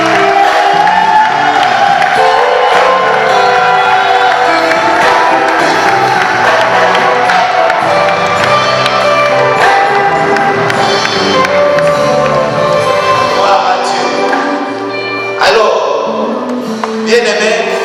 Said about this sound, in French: qui va s'avancer sur vos acclamations